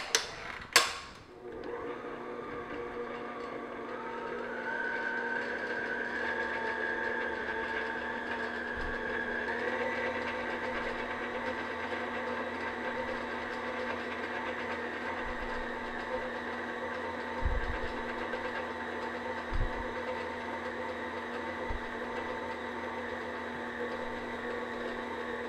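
An electric mixer on low speed beats flour into cookie dough for Mexican wedding cakes, giving a steady, faint motor whine and hum after a couple of sharp clicks at the start, with occasional soft knocks from the bowl.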